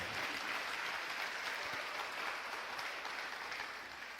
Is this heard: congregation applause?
yes